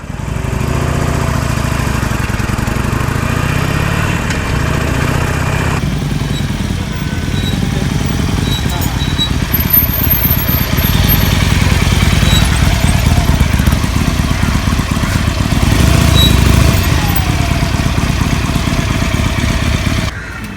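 A 2017 Harley-Davidson Roadster motorcycle engine runs loud and close, a continuous rough mid-pitched rumble that holds steady for about twenty seconds with no one speaking.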